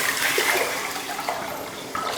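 Water poured into a bowl of rice and toor dal to soak, a steady rushing splash that runs continuously for a couple of seconds, close and fairly loud.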